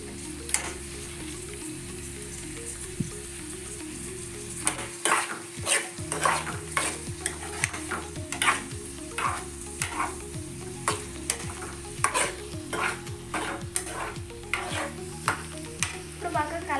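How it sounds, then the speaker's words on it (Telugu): Curry leaves fry in hot oil in a pan for an egg fry and are stirred until brown. Continuous loud sizzling runs under a rhythmic series of sharp spatula scrapes and knocks. "బాగా కలపాలి బ్రౌన్ కలర్ వచ్చే వరకు కలుపుతూనే ఉండాలన్నమాట"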